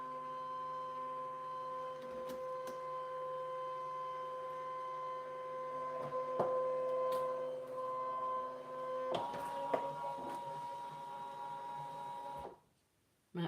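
A cutting machine running a direct cut, giving a steady mechanical whir with a constant tonal hum and occasional clicks, fairly quiet and close, stopping abruptly near the end.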